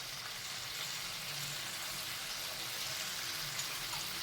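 Koftas fry with spices in a pan, giving off a steady, hissing sizzle that carries on evenly and fairly quietly throughout.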